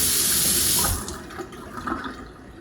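Water spraying from a repaired kitchen sink sprayer fitted with a new aerator O-ring, a loud close hiss of running water that cuts back after about a second to a softer splashing trickle into the sink.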